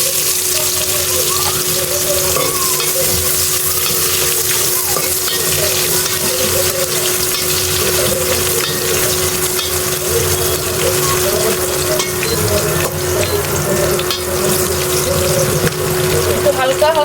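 Onions fry in a pan for pulao, a continuous dense sizzle with a steady hum and faint clatter, with a voice talking softly underneath.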